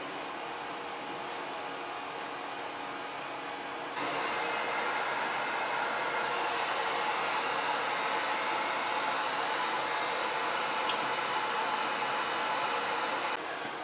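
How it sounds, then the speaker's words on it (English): A heat gun softens the adhesive under a Jgaurora A5 3D printer bed, making a steady, loud airy blowing hiss that runs the whole time and grows a little stronger after a few seconds. "I have my heat gun, and I'm just going to try to heat this up, see if it makes the adhesive a little more pliable"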